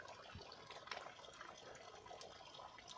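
Spring water flows straight out of a rock, a soft steady trickle and splash with faint drips, heard close but quiet.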